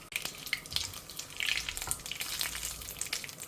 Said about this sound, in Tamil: கடுகு பொரியட்டும், உளுத்தம்பருப்பு செவந்து வரட்டும்